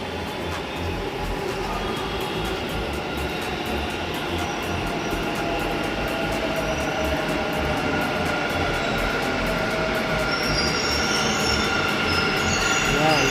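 A Bangalore metro train pulls into the platform, a continuous loud rumble of wheels and motor that builds slightly, with faint high squeals over the drone.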